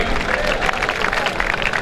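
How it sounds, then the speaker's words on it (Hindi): Dense, steady applause fills the air from a crowd at a volleyball show match, continuous and loud with no pauses. "जोरदार ताली होनी चाहिए"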